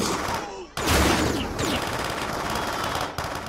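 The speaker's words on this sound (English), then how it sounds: "Kyle fires at the machine" Sustained gunfire from the 1984 film The Terminator, with dense crackling bursts and a loud blast near the start, continuing steadily at close range with no talk.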